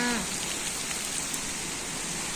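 Heavy first rain of the season with strong wind in a village at Peddapalli, a dense, even hiss of downpour filling the whole stretch with no voices.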